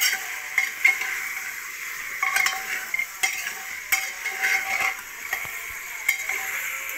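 A spoon scrapes and clinks against a pot as chicken is stirred over a high gas flame, with soft sizzling and frying underneath and irregular metallic taps close by.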